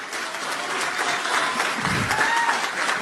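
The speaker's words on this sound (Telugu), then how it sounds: "నా కోసం ఏదో ఒక మూల నుంచి చప్పట్లు కొడుతున్నాడు" An audience at a film pre-release event claps steadily throughout, a dense, continuous wash of applause with a faint murmur of voices underneath.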